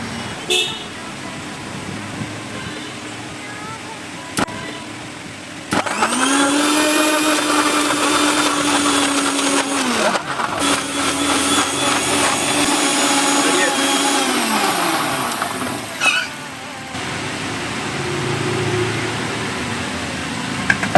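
A mixer grinder blends tender coconut shake with thick milk paste, its motor whirring loud and steady with a pitch that droops and recovers over about eleven seconds before stopping, then starting again briefly.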